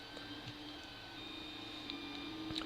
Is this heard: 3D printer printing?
yes